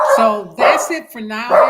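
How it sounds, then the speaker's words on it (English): Dogs bark in the background while a person keeps talking, with short, loud bursts mixed in and partly covered by the voice. "Excuse the dogs for barking."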